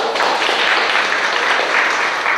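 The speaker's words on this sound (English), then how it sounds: "Everybody give a round of applause." An audience at a women in real estate event breaks into a short burst of continuous applause, dense and fairly loud clapping for a couple of seconds with no talking over it.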